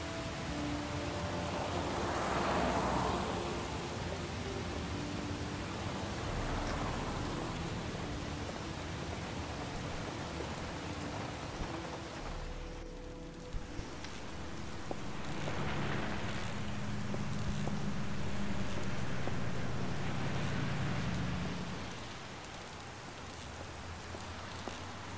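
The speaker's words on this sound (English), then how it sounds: "Why does it always rain?" Steady rain in the video game Heavy Rain hisses continuously, with low rumbles swelling and fading, faint and without voices.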